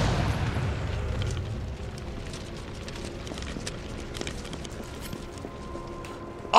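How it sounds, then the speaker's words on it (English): Explosions in the video game Resident Evil 3 give a deep rumbling boom that fades into a low, noisy wash of game ambience. "Explosions!"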